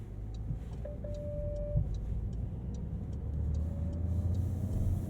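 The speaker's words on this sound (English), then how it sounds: "Turn signal sound." A Porsche 911 T turn signal ticks in a steady, even rhythm of crisp clicks inside the cabin, heard over low engine and road rumble.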